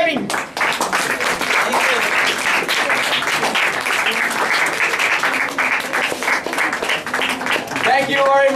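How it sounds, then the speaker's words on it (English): An audience at a debate event claps loudly and continuously, a dense burst of applause filling the room for several seconds, with voices faintly mixed in near the end. "I'm going to call with your claps, with your hops, Sir Tazim Ali with clapping."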